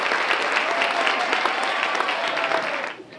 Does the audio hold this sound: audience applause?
yes